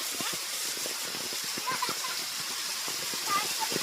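A small waterfall near home rushes with a continuous even hiss of falling water during rain, while voices talk and exclaim over it.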